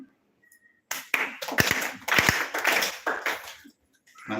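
A small group claps in unison at a Krishna Consciousness gathering, with bursts of rhythmic, moderately loud handclaps starting after a quiet pause, then fading and stopping.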